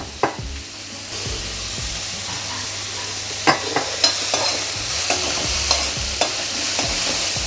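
Salted onions sautéing in oil in a pan, a continuous sizzle broken by repeated spatula scrapes and taps against the pan at irregular intervals.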